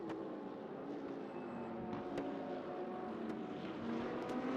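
RUF-engineered Porsche and Mercedes race cars running at Sepang circuit: a steady, dense engine roar from cars on track, held at an even level for a few seconds with occasional brief higher whines.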